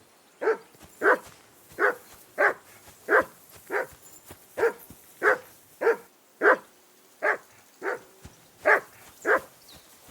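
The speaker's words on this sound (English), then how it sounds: "Jesus, Henry, that barking's driving me nuts." A dog in the video game Kingdom Come: Deliverance II barks in a steady repeated rhythm, about fifteen sharp barks, moderately loud and close, with no other sounds around them.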